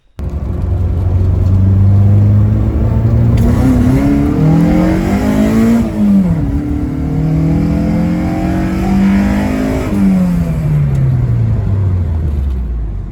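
A Honda K20A2 head on a K20A3 engine in an EP3 Civic revs loudly and continuously, its pitch climbing and falling through several gear changes as it accelerates on a test drive, close up with no talking.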